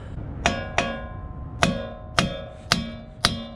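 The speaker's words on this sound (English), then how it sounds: "I'm gonna beat on this bolt and it will come out." A bolt hammered to drive out a ball spline half shaft on a Chevrolet ZR2 race truck: six sharp, ringing metallic strikes at an uneven pace, close and clear with no talking.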